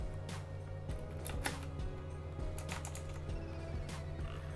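Keys clatter on an ROG Claymore Core RGB mechanical gaming keyboard: a quick, irregular run of crisp clicks close up over a steady low electrical hum.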